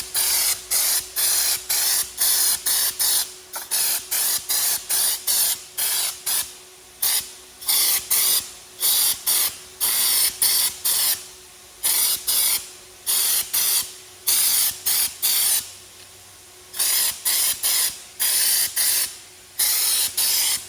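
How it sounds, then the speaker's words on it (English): A spray gun spraying black paint hisses in rapid repeated bursts, loud and close, each spray lasting a second or so with short gaps between. "so we're spraying the black"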